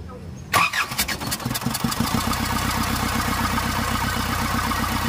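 An Isuzu Elf 4HF1 diesel engine, idle for a year, cranks and fires, then settles into a loud, close, uneven idle with a rough, misfiring knock that continues steadily to the end.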